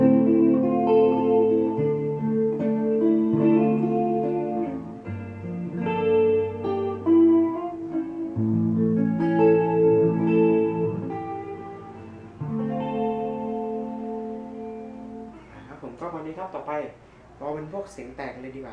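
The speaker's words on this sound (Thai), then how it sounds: "เสียงแตกก็ใช้เป็น บอสนะครับบอสดีเอสวัน" Legend LP Custom electric guitar through a Boss DS-1 distortion pedal with pickups combined, playing riffs with sustained, gritty chords and a few picked notes at the end, loud and continuous.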